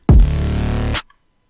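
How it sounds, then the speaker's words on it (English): A deep sustained 808 bass note in a drum pattern holds steady for almost a second, then a sharp snare hit lands and the 808 cuts out at once, leaving silence. "like the 808 cuts out when the snare hits too."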